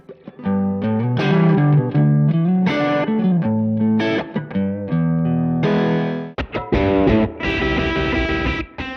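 Electric guitar played through an overdrive pedal that reproduces classic Fender, Marshall and Vox tube amp tones, loud and gritty with sustained distorted notes, chord stabs and quick runs, alone without voices.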